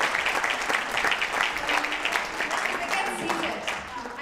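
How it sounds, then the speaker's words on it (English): An audience at a philanthropy gathering gives a full round of applause, a dense and continuous wash of clapping at steady volume, with some voices mixed in. "Please give her a round of applause."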